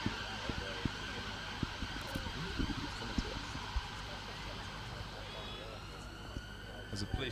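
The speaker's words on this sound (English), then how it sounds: "There's a police siren, Wales through Bristol Road, just behind us here at Bournbrook Pitches." A police siren wails past on Bristol Road behind Bournbrook rugby pitches, a faint wavering tone under a sports commentator's talk, with scattered thuds and crowd noise from a women's university rugby union match.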